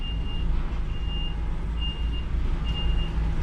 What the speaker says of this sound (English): Forklift behind me, he's putting a pallet on there